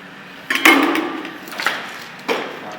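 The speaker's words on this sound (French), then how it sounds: "On remalaxe une dernière fois." Mortar remixed by hand with a trowel whose handle is welded to the blade, giving three sharp scraping, knocking strokes spaced about a second apart, close and clear.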